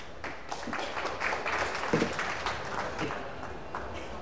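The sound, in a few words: crowd applauding at pool match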